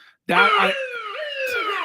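A police siren wails loud and close, its pitch sliding downward in a drawn-out sweep after a brief quiet start, with no talking over it.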